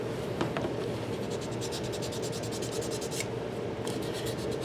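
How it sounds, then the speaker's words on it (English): Fine grit sandpaper, 400 or 320, rubbing along the painted edge of a Mandalorian holdout blaster prop in quick, even back-and-forth strokes, soft and close. "take some fine grit sandpaper and clean up the rest of that edge on the front"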